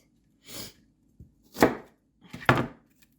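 Knife chopping onions on a cutting board while making fire cider vinegar: three separate close, crisp chops spaced about a second apart, each with a short sharp attack, alone in a quiet kitchen.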